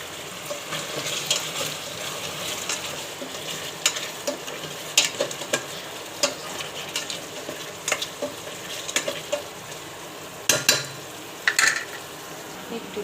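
Chicken curry is stirred in a frying pan, with a soft continuous sizzle under scattered scrapes and clinks of the spoon against the pan.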